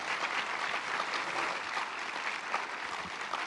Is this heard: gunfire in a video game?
no